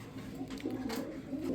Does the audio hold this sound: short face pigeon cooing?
yes